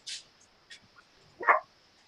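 Dogs bark a few times in the background during an online board meeting, short faint yips followed by one louder, nearer bark, with quiet gaps between.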